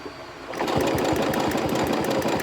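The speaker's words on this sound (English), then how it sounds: "I do not have a stitch regulator on this sewing machine" A sewing machine without a stitch regulator starts up and runs in a fast, steady, rhythmic stitching chatter, loud and close, while quilting.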